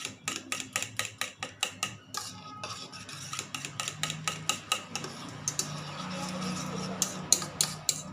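A spoon clatters briskly against a bowl while idli batter is mixed, giving a run of quick, close, sharp taps that slow into scraping strokes, with no talking over it.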